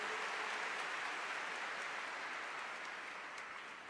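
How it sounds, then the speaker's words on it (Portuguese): A church congregation gives a steady wash of applause that sounds faint and distant, holding evenly before gradually fading at the end. "Vamos aplaudir poderosamente a palavra do Senhor."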